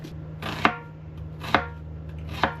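A knife chops through half an onion in three evenly spaced, crisp strikes on a cutting board, close and clear with no talking.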